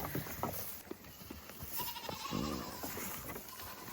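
Goats jostle over hay, with a clear nearby bleat amid rustling, thumping and shuffling movement, no talk.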